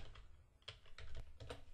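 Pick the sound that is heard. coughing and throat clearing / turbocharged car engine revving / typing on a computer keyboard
typing on a computer keyboard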